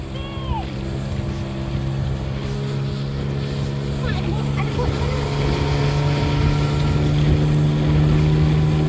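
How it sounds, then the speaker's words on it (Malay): A speedboat runs across the sea near Pulau Pangkor, its motor droning steadily and loudly with wind and water rush throughout, while no clear speech stands out. "Tak ramai orang berani naik bot macam ni."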